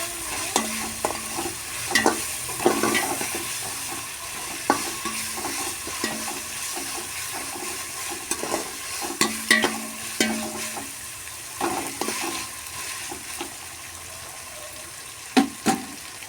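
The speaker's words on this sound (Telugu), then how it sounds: "అల్లం వెల్లుల్లి పేస్ట్ పచ్చివాసన పోయేంత వరకు వేయించుకున్నాను" Ginger garlic paste frying in a little oil, a steady close sizzle broken by repeated scrapes and knocks of a stirring spoon against the pan.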